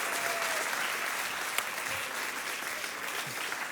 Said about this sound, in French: Est-ce qu'on peut faire un tonnerre d'applaudissements pour Étienne?